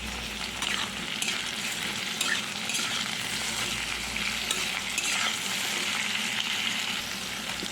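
Potatoes and pointed gourd fry in a pan with a constant close sizzle, punctuated by scraping stirs, with no talking over it.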